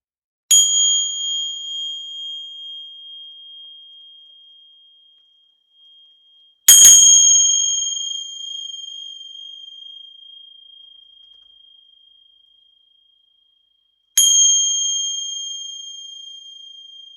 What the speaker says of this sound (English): I'm going to ring some bells here